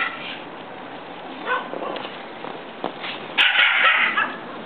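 Several Labradoodles and Standard Poodles bark and yip in short bursts outdoors in snow, with a louder cluster of barks near the end.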